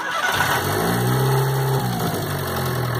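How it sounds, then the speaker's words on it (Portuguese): A VW Gol with a turbo and an 8-valve cylinder head starts up close by, the engine catching and settling into a loud, steady, slightly rough idle with a rising whine. "Giovanni, liga esse carro."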